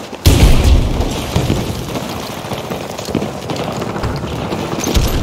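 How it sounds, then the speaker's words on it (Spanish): Grenade explosion in Battlefield 2042, a loud close blast at the start followed by a rumbling, crackling battlefield wash with scattered pops and debris. "¡Voy a lanzar una granada!"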